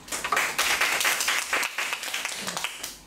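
An audience claps together at a speech rehearsal: a dense, steady patter of many hands for about three seconds, fairly close and loud, with no talking over it.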